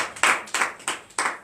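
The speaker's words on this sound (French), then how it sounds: "Donnons l'acclamation, Seigneur Jésus." A church congregation at morning prayer claps in acclamation: four crisp, evenly spaced bursts of hand claps, close and loud, with no voices over them.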